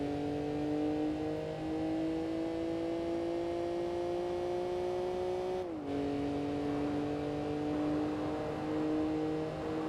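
Racing car engines in Gran Turismo 4 drone steadily at high revs, a constant whine that dips briefly as gears shift, then climbs again.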